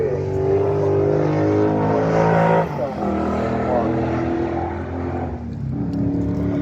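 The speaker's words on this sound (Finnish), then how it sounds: "näin lähdetään sitten uudelle kierrokselle tuolla Matti Kuusla, eli tuolla autolla" A vintage MGP race car, the third brought to Finland, sets off on a new lap at a circuit, its engine note rising and falling and passing close by while someone talks over it.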